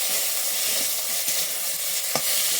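Salted, chilli-powdered food frying under a lid in a covered pan, giving a loud, steady hiss with a few muffled knocks and one sharp clink near the end, without any talking.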